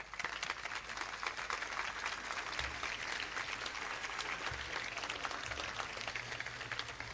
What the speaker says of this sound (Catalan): el primer aplaudiment d'aquesta nit. Per en Vicenç Pagès.